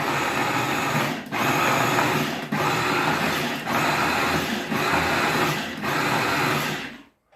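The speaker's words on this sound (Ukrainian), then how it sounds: "Зараз оту велику цибулинку перебиваю" Steady whirring buzz of an electric chopper blending a large onion, running in several long loud pulses separated by brief pauses, then stopping abruptly.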